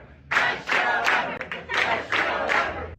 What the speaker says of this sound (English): the cheering for Rosie began before that curtain opened to reveal her for the studio audience